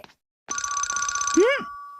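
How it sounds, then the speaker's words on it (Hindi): A telephone ringing in a Doraemon cartoon, a bright electronic ring that starts abruptly and holds steady for about a second, then is cut off by a rising and falling cartoon sound effect. "ये जरूर शिजुका का फोन होगा।"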